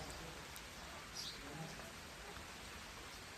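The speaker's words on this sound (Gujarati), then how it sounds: "ઘડીક બેઠા હતા વરસાદ આવી ગયો" Rain falls steadily in a faint, even hiss with scattered patters of drops, continuous for the whole stretch.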